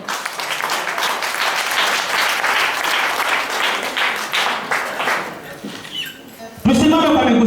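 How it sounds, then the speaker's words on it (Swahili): A church congregation claps loudly and continuously during a service, dense applause for about six seconds before it thins out and a voice begins speaking over the end. "Karibuni sana, mnaposimama muwapigie makofi jameni."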